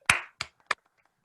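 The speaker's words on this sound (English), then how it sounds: "give a round of applause for the Titans and Colts and their" Podcast hosts clap three times, sharp isolated hand claps close to the microphone with brief pauses between them, the first strongest.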